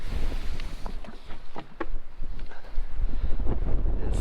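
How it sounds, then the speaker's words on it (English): Strong wind blows outdoors in South Dakota, making a low, continuous rumbling roar that buffets the microphone and rises and falls in gusts, with no voices. "It is extremely windy."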